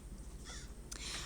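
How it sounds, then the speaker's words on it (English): A crow caws outside an open window, a couple of short raspy calls at moderate distance over a steady low background hum, with no talking. "Hopefully you can't hear that crow in the background."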